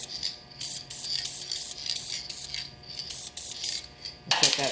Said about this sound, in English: Just need to spray some on the middle to cover up our old marks